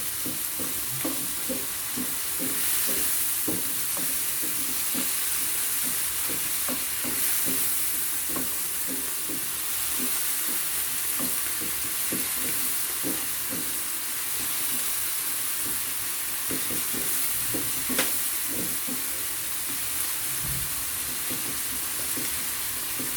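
Peppers frying in an oiled pan hiss continuously while a utensil stirs them, giving a rhythmic scraping under a loud, even sizzle, with no voices.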